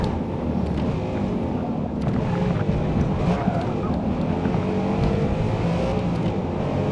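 A race car corners at Laguna Seca in the video game Forza Motorsport, a steady low engine drone with tire and wind roar held at an even level throughout, with no voices.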